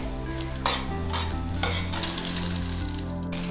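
An egg for egg fried rice being stirred and fried in a pan over a high flame, a steady loud sizzle with scraping stirs and a few sharp utensil knocks against the pan, no voices.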